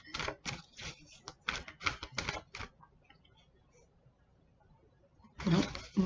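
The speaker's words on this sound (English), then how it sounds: "keep shuffling, apparently" A deck of tarot cards is shuffled in quick bursts of crisp riffling clicks, followed by a long quiet pause and then another short, louder shuffle at the end.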